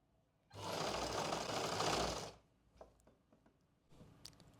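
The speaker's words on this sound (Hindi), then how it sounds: "अब बॉटम वाली साइड से इसे सिलेंगे।" Sewing machine stitching the bottom side of plazo pants, a single close burst of rapid mechanical whirring lasting about two seconds, followed by faint clicks and handling noises.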